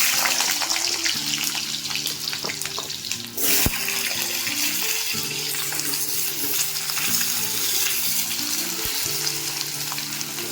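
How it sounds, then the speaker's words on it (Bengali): Diced medium-sized potatoes frying in hot oil, a steady close sizzle that runs throughout with a brief clatter partway through, heard alone with no talking. "আলুগুলোকে আমি এখন তেলে দিয়ে একটু লালচে করে ভেজে"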